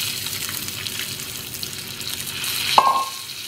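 Boiled eggs are stirred and tossed in a hot pan, giving a steady close sizzle with soft scraping and a sharp metallic clink of a utensil near the end.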